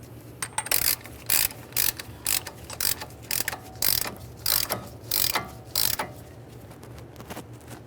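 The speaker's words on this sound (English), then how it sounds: "When you go to tighten this nut, never use an impact gun, only use hand tools." A hand ratchet tightens a front strut nut on a 2013-2020 Ford Fusion, giving a close, quiet series of rhythmic clicking bursts separated by short pauses.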